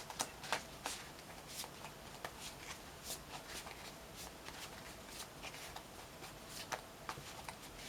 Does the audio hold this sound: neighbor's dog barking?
no